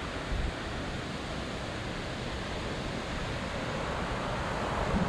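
Sea waves washing in at Balneário Camboriú beach at high tide, a steady broad roar of surf with wind noise on the microphone, continuous and without talk.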